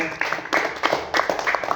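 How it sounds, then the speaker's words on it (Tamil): Children in a classroom clap their hands for a classmate, a short burst of scattered, uneven claps from a small group at close range with faint voices mixed in. "இனியாவுக்கு ஒரு கைத்தட்டி கொடுத்துருங்க"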